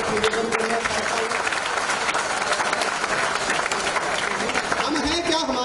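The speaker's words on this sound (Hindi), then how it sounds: "एक बार अनुमोदन करिए तालियों के साथ।" An audience at a poetry recital claps loudly and steadily, a dense wash of applause with some voices mixed in near the end.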